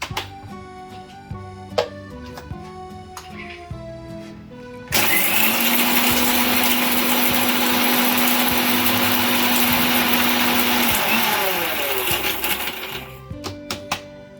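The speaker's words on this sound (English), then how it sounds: "And first I am going to grind this whole spices." Electric spice grinder pulverising whole cinnamon and cloves, a loud steady whirring roar running for about eight seconds, with softer kitchen clatter before and after.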